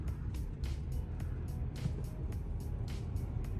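A lifted 2021 GMC Sierra Denali 2500 on 24-inch wheels rumbles low and steady as it pulls up to a racing shop, with a rhythmic ticking or thumping repeating over the engine drone.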